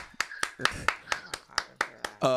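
Slow, evenly spaced hand claps, about nine sharp strikes in a row, close and clear, with a brief voice at the end, on a morning radio show.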